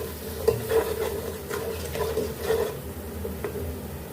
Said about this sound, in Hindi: इन सबको अच्छे से मिक्स कर लेते हैं